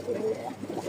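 A male Lahori pigeon cooing up close, a run of low rolling coos that repeat steadily and fairly loud, with no talk over them.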